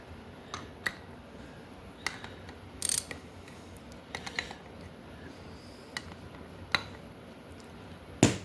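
Ratchet loosening a bolt on the pump of a rebuilt 1990 4L60 transmission: scattered sharp clicks and short ratcheting bursts over a quiet hum, close, with no talk.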